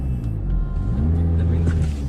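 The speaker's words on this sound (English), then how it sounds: "It won't rev beyond that in neutral." A 2017 Audi A6 engine idles in neutral, then revs up to its soft limiter and holds there, a loud, close, steady drone with rumbling undertones.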